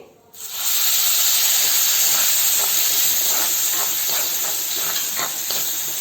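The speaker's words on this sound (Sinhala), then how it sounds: "දැන් විනාකිරි දාගන්න යන්නේ. විනාකිරි වලට මම අබ පේස්ට් එක මික්ස් කරගෙන තියෙන්නේ." Vinegar mixed with mustard paste hits a hot pan for brinjal pahi, bursting into a loud, steady hiss and crackling sizzle that starts abruptly and holds strong throughout, with no voices.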